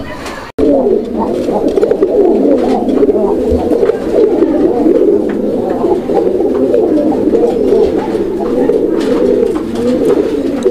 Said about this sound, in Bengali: অনেক ভরপুর ডাকের একটা কবুতর